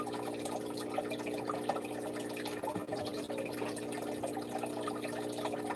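An aquarium filtration system at a baby puffer fish tank pushes out water in a steady trickling, splashing flow with a low hum underneath, continuous and moderately close, with no voices.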